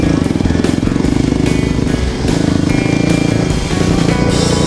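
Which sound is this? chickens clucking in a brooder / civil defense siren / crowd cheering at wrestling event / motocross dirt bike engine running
motocross dirt bike engine running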